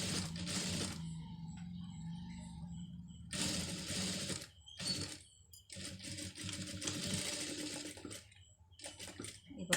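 A sewing machine stitches a saree border in several loud, whirring runs of rapid needle strokes, separated by short pauses.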